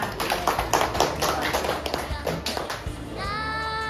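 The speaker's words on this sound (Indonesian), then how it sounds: "Tepuk tangan buat Bintang." Classroom children clap their hands in quick, uneven bursts, near and fairly loud, mixed with children's voices. A sustained tone takes over toward the end.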